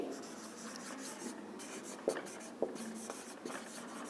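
Writing on a board during a maths lesson makes a steady scratchy stroke sound, close by and moderately loud, with a couple of sharp taps as the writing tool hits the surface.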